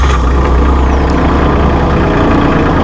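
A Massey Ferguson hydrostat tractor engine runs at a steady, loud, close idle, a continuous low diesel rumble with no break or change in pace.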